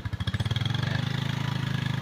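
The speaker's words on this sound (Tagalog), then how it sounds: "kasama lang natin yung motor natin" A motorcycle engine idles up close, a loud, even, rapid putter of firing pulses with a slight rough wobble, running steadily throughout with no voices.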